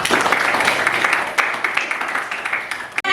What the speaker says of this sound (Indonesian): Beri tepuk tangan untuk kelas ini